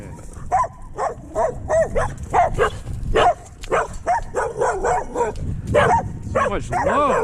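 Several dogs barking and yipping in excited, uneven bursts on a walk in Dallas. The barks are close and loud, with whimpers between them, and a person talks over them.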